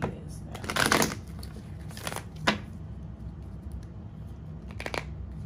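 Lightweight tarot cards riffle and shuffle in quick bursts, close and crisp, separated by quiet pauses.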